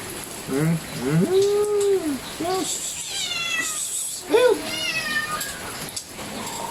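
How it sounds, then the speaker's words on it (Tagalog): A cat that stole a piece of fried duck meows repeatedly and close by, a series of rising and falling cries, while people talk over it. "The cat is here."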